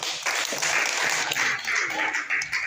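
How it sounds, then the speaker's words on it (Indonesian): Church family-week service congregation clapping for a group, a steady, fairly soft patter of applause lasting a few seconds with a faint murmur of voices underneath. "Tepuk tangan untuk kelompok."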